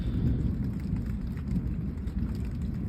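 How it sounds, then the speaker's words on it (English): Steady rain patters down at a Michigan campsite during a storm, with a low, distant rumble of light thunder far off under the constant downpour. "that's like the typical one, which is like a far away light thunder strike up high"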